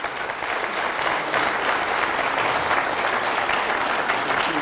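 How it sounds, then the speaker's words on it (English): Audience applause at a 2018 gubernatorial candidate forum for the panelists and governor candidates, a steady, full burst of clapping that holds evenly for several seconds. "So if you give them a round of applause"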